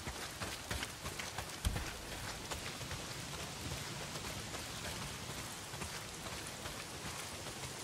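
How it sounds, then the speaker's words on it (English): Heavy rain pours steadily in the video game Days Gone, a dense, even hiss of falling water, fairly quiet and unbroken, with one brief louder knock near the start and no talking. "Well, not if it's pissing down rain."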